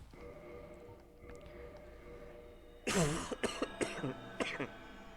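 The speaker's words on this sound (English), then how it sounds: "Okay, that was a really ugly cough." A harsh, ugly cough from a sick person gaming, a burst of several rough hacking coughs and throat clearing close to the microphone after a quiet stretch.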